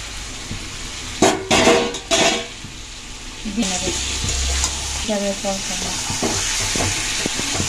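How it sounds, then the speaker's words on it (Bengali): Raw jackfruit curry masala is stirred and fried in a pan: steady close sizzling with scraping spoon strokes and short bursts of louder frying, while a person talks over it. "আর এটা ভালোভাবে নেড়ে যাবেন যেন না তলায় ধরে যায়।"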